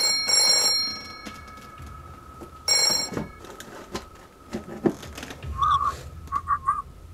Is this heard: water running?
no